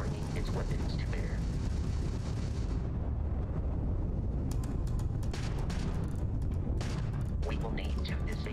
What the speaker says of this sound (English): that's a Crimson fleet ship bringing its weapons to bear